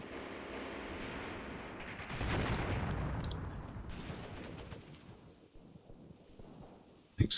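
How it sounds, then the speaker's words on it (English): Distant artillery fire in the wargame Graviteam Tactics: a dull, rumbling barrage that swells mid-clip, then fades to scattered faint thumps before a sharp burst at the end, with no talk. "Let's get some more artillery in here."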